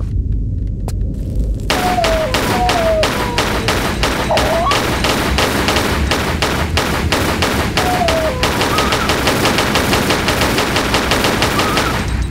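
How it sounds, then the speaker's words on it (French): Rapid automatic gunfire from Lara's guns in the Tomb Raider video game as she kills jackals, with dense, loud, continuous bursts and a few faint game sound effects layered in. "les chacals ont péri sous les balles de Lara"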